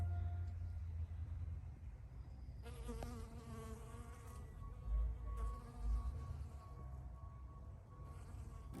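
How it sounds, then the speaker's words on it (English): Bees and other insects buzz around lavender and California poppy flowers, a steady close drone that rises and wavers as they move, over a low outdoor rumble with no voices. "The bees are also looking for the unpollinated flowers."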